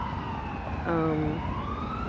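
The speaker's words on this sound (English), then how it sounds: "Oh, there's a siren. I don't know how much you can hear the traffic" An emergency vehicle siren sounds in passing street traffic, a clear wavering wail rising over a steady road rumble for about a second before fading back into the traffic noise.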